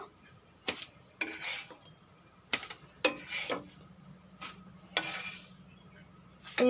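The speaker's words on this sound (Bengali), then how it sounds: "নাস্তাগুলো খুব সুন্দর করে ভেজে নিয়েছি এখন তুলে নেব" Fried snacks lifted from a frying pan with a metal utensil, giving a series of sharp scraping clinks and taps against the pan, spaced irregularly over a faint background hum with no talk.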